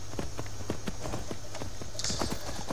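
Horse hooves clip-clopping at a steady walking rhythm while riding in the Skyrim video game, over a low game music drone, with a brief brighter flourish near the end.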